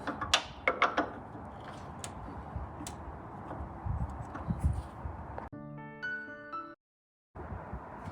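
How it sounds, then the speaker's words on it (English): A ratcheting wrench loosening a nut on a Ram pickup truck tailgate, rapid close clicking and ticking in short bursts, followed by a steady tonal hum and then a brief silence. "take this tool here, the torque wrench, and just loosen this particular nut"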